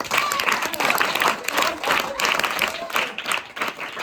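A group claps at an outdoor tree-planting event, giving a dense, steady round of applause that swells and dips slightly across the few seconds, with faint crowd voices mixed in.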